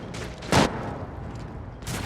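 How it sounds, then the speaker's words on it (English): Explosions and gunfire from combat against heretic cutthroats in the Warhammer 40,000: Rogue Trader video game, with one sharp loud blast in the middle and a second burst near the end over a steady rumbling battle background. "Ooh, explosions."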